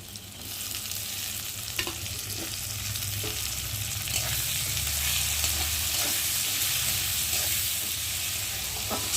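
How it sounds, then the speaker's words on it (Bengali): Chopped tomatoes and extra chillies fry in a pan for a spicy Maggi, giving a steady, close hiss of sizzling oil with faint stirring clicks throughout and no talk. "টমেটোটা দিয়েছি, যতক্ষণ না টমেটো গলবে আমি কষিয়ে নেব"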